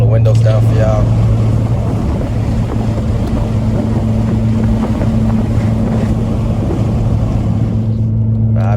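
A 2.4-liter Acura TSX CU2 with full exhaust and lightweight flywheel cruises at 80 in sixth gear with the windows down, giving a steady low exhaust drone under constant wind rush.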